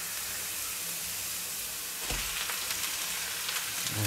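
Ground beef sizzling in clarified butter alongside glassy softened onions in a pan, a steady frying hiss that swells sharply midway as the meat goes in, then crackles loudly and continuously with scattered pops, no talking.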